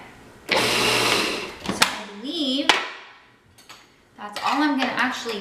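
A food processor whirs loudly in a single burst of about a second while blending a raw vegan curry rice mixture, then cuts off; a voice talks briefly afterward.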